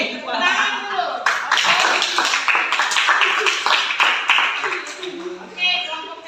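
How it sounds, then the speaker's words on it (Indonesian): Classroom audience clapping during an Indonesian teaching-practice lesson: rhythmic clapping from a group of people breaks out after a moment and carries on for several seconds, close and loud, mixed with voices talking. "Oke, tepuk tangan dulu."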